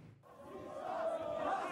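Football fan at a stadium during a Libertadores match imitating a monkey, a loud sustained vocal howl rising over the roar of the crowd.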